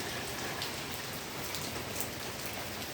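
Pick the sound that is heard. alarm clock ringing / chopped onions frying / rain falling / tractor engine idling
rain falling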